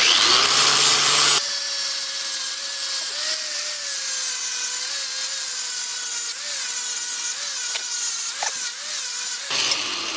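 A flap wheel on a power grinder works steadily across a welded gas tank for a 4WD Daytona, a loud continuous whine with slight pitch wobble and scraping rasp, starting abruptly and cutting off near the end.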